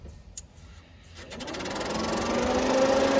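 A tractor canopy fan fitted in a mini excavator cab clicks on and spins up, its whirring hum building over a couple of seconds into a steady, close drone.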